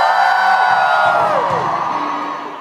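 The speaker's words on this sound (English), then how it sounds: "So I want to see how loud you can shout, yeah?" A concert crowd shouts and cheers together on cue, a loud sustained roar of massed voices with whoops, close and filling the space before slowly tapering off.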